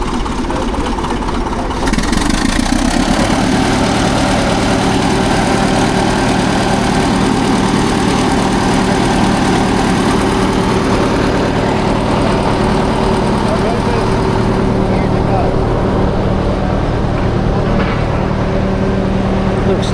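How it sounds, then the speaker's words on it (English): A Caterpillar stationary engine idles at a steam working weekend, a steady low mechanical drone with constant harmonic hum that holds for the whole stretch, with people talking nearby. "Looks to be a stationary engine of some kind by Caterpillar."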